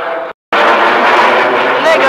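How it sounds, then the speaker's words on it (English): Spitfire aircraft landing at RAF Coningsby, a loud, close, broadband engine roar filling the clip after a brief cut, with a voice faintly underneath. "Spitfire landing."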